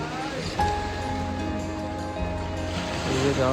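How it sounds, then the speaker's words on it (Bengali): High-tide water and waves wash against the shore of Mousuni Island in a continuous, close surf rush. A tonal hum and other background sounds run beneath it. "এখন জোয়ার চলছে, তাই জল একদম উপরে চলে এসছে।"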